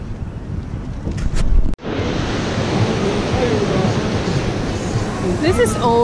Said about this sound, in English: This is ocean.